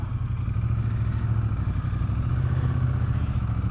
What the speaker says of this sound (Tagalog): Malakas ang mga motor.